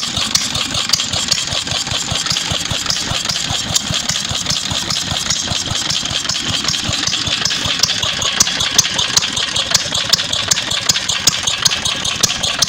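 A Ruston Hornsby PB8 3 hp stationary engine running after a cold start, a close, loud, steady rapid chugging with a metallic rattle on every beat, continuous and alone with no voices.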